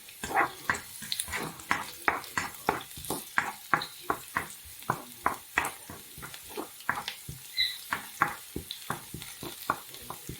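Garlic dropped into a hot pan for chicken liver adobo, stirred in quick, steady bursts of scraping and sizzle that pulse about once a second, close and fairly loud, with no talking.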